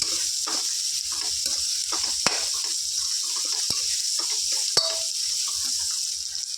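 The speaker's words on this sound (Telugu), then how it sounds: "ఫ్రెండ్స్ ఆనియన్ చక్కగా ఫ్రై అయిపోయాయి" Onions sizzle steadily in a pan with salt added, a constant bright frying hiss broken by a few sharp clinks of a spoon stirring against the metal, with no voices.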